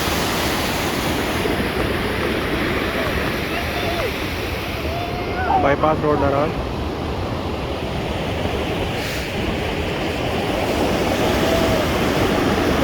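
Roaring waterfall on the bypass road at Naran, a loud steady rush of water filling the whole clip, with someone talking briefly over it near the middle.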